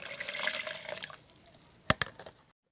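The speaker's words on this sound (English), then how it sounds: "we're going to simply fill a container with some water" Water runs into a container from a tap, a trickling splash that fades, followed by two sharp knocks before silence.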